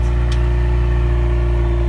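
A stock 2019 Ford Mustang EcoBoost with a quad active exhaust holds a steady, loud, close engine drone with a deep low rumble throughout, without any sharp rev spikes.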